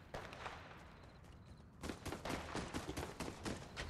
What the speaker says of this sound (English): Except for the gunshots I heard?